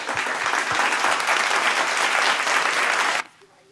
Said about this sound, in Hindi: मशहूर मेरठी साहब का जोरदार तालियों से इस्तकबाल करें।